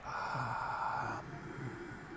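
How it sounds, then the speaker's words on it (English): A breathy, rasping throat sound from yogic constricted-throat breathing, like a soft hiss through a narrowed airway, is held close to the listener and then eases into a quieter exhale. "You end up on a snoring, Darth Vader-y sound in the throat"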